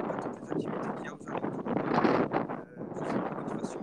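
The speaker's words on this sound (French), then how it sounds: "Beaucoup de vent, hein." Wind gusting into an outdoor microphone in Corsica, a rumbling, buffeting roar that swells and dips over a few seconds while someone talks.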